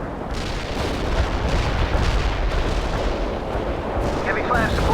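Artillery barrage in the World in Conflict video game: dense, loud rolling booms and blasts pound continuously, overlapping one another, with a brief radio-style voice near the end.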